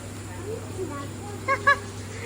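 At a zoo in Kuala Berang, a bird gives two short nasal honks in quick succession, moderately loud against a low background hum and faint murmur.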